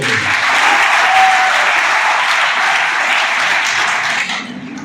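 Loud, sustained applause from students in a college hall, thanking the Uttar Pradesh government at a mobile phone distribution event, steady dense clapping that thins out and fades at the very end.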